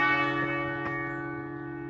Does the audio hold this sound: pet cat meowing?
no